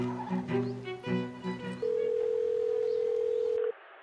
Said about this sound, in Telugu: మీ భార్యకు ఒకసారి ఫోన్ చేయి